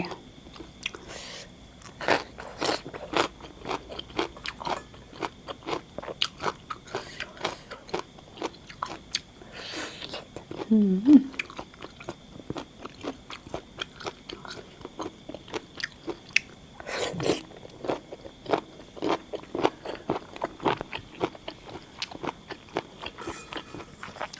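Spicy pounded giant octopus tentacle salad is chewed up close, with repeated crisp crunching bites and wet chewing sounds in an uneven rhythm throughout.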